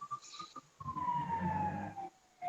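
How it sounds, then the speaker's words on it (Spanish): An emergency vehicle siren passes on a busy street, one long, loud wailing tone that slowly falls in pitch over rumbling traffic noise. "Ahí se escuchó una sirena"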